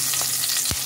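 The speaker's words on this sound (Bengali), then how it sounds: "ফোড়নটাকে কয়েক সেকেন্ড নাড়াচাড়া করে নিলাম।" Whole spices for a radish and shrimp curry crackle and sizzle in hot oil as they are stirred, a dense hiss close up, with a spatula scrape near the end.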